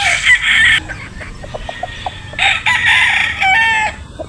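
A pure Gilmore gamefowl broadstag crows close up, two loud strained cock-a-doodle-doo calls with softer clucks and scratching between them.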